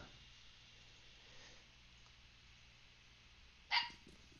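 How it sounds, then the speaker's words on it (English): Dog giving a single short bark in the distance, faint and brief against a quiet background hum, with no talking. "Did you hear my dog just bark?"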